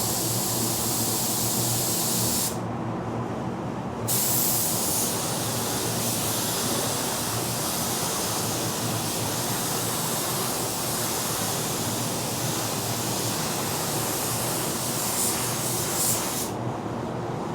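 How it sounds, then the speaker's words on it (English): Steady, loud hiss of a Sagola 4600 spray gun applying sealer wet, a long continuous spray with two brief pauses where the trigger releases. "Now sealer should be sprayed wet. Make sure you're spraying your sealer wet."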